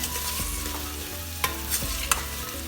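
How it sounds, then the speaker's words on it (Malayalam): Cut vegetables tipped into a frying pan of onions and stirred, a steady close scrape and rustle with a few sharp clinks of the spoon against the pan, no voices. "ഇനി ഇതിലേക്ക് നമ്മൾ കട്ട് ചെയ്ത് വെച്ചിട്ടുള്ള വെജിറ്റബിൾസ് എല്ലാം ചേർത്ത് കൊടുക്കാം."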